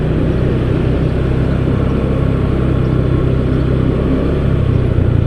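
A traffic jam of cars and motorcycles in Pekanbaru: a loud, steady drone of idling engines close by, a constant low rumble with no pauses.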